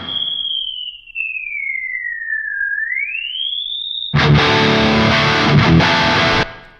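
A piercing sweeping whistle tone glides down and back up alone, as when hunting a harsh resonance in a distorted guitar amp recording, then a loud crunchy distorted electric guitar passage plays for a couple of seconds.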